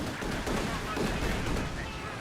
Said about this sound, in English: a strafing run by my opponent